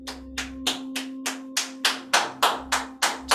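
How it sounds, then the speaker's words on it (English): An open palm taps down the inside of the arm during qigong practice, making about ten crisp, evenly spaced slaps close to the microphone, each slightly louder than the last, over a faint steady hum. "Now we're going to tap down the right arm, down the inside of the right arm with an open palm."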